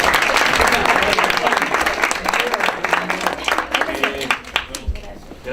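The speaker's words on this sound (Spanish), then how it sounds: "aquí está, donde damos un aplauso" An audience at a stand-up comedy talk claps for the performer, loud dense applause that thins into scattered claps, with voices faintly mixed in.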